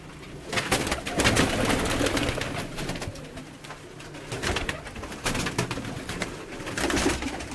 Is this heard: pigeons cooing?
yes